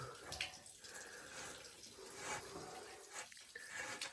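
Steady running water gushes and splashes continuously out of a repaired water pipe being flushed of dirt, a broad hiss with occasional gurgles, fairly quiet and with no voices.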